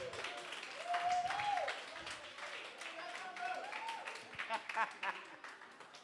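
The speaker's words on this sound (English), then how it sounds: "Can we give them another round of applause, please?" Audience applause at a Castle Lite Drop launch event for models, a soft patter of clapping in the distance beneath a loud voice speaking and tonal music.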